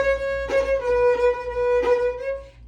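A fiddle holds a steady, bright bowed note while the bow bounces in a repeating pulse, with accented strokes about every two-thirds of a second over roughly three seconds, played alone and close up.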